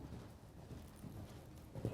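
Horse hooves clip-clop at a show-jumping clinic, a rhythmic series of soft, muffled thuds that stays faint and fairly distant throughout.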